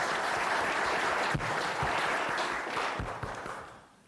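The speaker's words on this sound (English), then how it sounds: "A round of applause for the Orland Park Veterans Commission." Applause from an audience at a village board meeting in Orland Park, Illinois, steady sustained clapping that tapers off toward the end.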